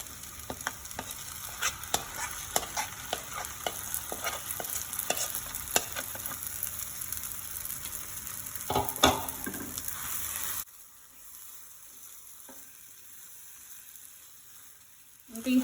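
A spoon stirs and mixes a thick pot of homemade veg haleem, giving repeated scraping clicks over a soft sizzle. The stirring then stops and only a faint quiet background remains near the end.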